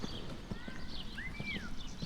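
Horse hooves clip-clopping during a show jumping lesson at an equestrian centre, a steady quiet rhythm of footfalls in an outdoor arena with a faint bird call above.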